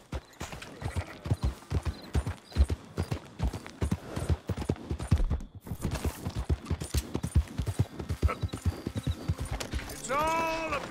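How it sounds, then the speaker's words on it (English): Horse hooves gallop in a fast, steady clip-clop rhythm in Red Dead Redemption 2, close and prominent under game sounds and voices, with a brief whinny near the end. "Come on, horse."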